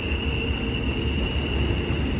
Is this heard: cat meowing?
no